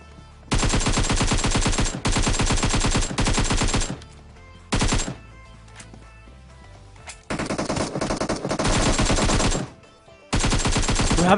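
AKM assault rifle fire in the mobile game PUBG Mobile: loud, close bursts of rapid automatic gunshots separated by short pauses, plus a single quicker burst, with no talking.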